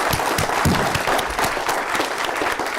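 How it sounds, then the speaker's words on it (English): A room full of people claps loudly and continuously for a security officer at an emergency response gathering, a dense, even burst of applause with no talk over it. "Hey, you guys give our officer a round of applause."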